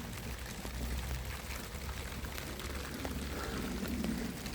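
Water steadily pouring and trickling off waterproofed wood, a continuous wash of splashing and dripping close by with no talk.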